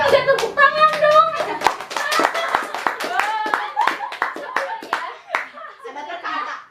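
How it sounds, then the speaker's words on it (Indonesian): A small group clapping hands in distinct, uneven claps mixed with children's voices, chatter and chuckling laughter close by. "Wah, tepuk tangan."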